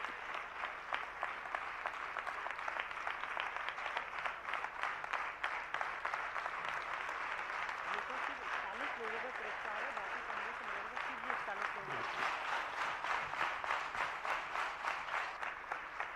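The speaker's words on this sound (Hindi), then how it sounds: "जरा एक बार जोरदार तालियां बजाइएगा।" Sustained, hearty applause from the audience at a Jain religious discourse and award presentation, a steady dense clatter of many hands lasting throughout, with a voice briefly audible partway through.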